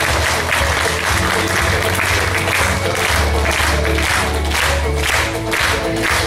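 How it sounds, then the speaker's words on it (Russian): Everyone in a hall applauds during a family honors ceremony for couples married over fifty years, a loud, continuous roar of clapping with crowd noise and a low hum underneath, sustained without pause. "аплодисменты всех присутствующих в этом зале"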